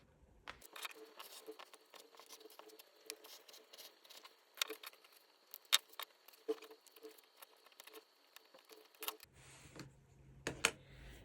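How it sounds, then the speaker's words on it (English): Scissors cut through Thermolam fleece interfacing in a quiet run of soft, irregular snips and rustles, close by and with no talk. "I'm going to cut 2 pieces of my Thermolam."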